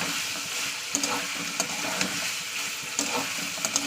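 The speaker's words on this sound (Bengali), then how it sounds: "চলুন এবার আমি ভালো করে মাংসটা ভাজা করে নিচ্ছি তেলের উপরে" Meat frying in oil in a pan, a steady broadband sizzle with occasional sharper crackles and pops, close and fairly quiet, with no talking.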